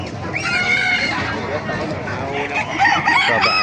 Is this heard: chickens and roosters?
yes